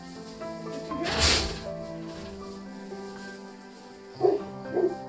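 Dogs bark outdoors on a farm in minus twenty degree cold, with one loud bark followed after a pause by two quicker barks close together, set against a low steady background.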